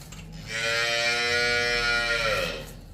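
A large cow on a dairy farm lets out one long, loud moo close by, rising and holding for about two seconds before fading, with no talking over it.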